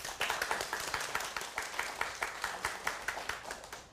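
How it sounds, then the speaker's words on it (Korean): An audience at a TV lecture claps in a short, rhythmic round, individual hand claps distinct and evenly paced, moderately loud and close. "박수."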